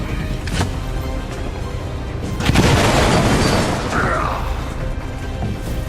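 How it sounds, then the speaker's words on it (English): A frag grenade explodes in a video game, a loud booming blast swelling mid-clip over a dense mix of game noise, followed by trailing debris and rumble. "what we're going to do is hit him with the frag grenade and remove his cover"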